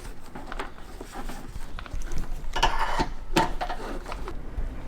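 A hand tool removes screws from the radiator support of a wrecked BMW E46 during a rebuild. Close, irregular clicks and mechanical rattles come in short bursts, with a few sharper knocks.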